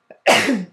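One sharp sneeze indoors, a brief intake of breath followed by a loud, close burst that trails off within half a second.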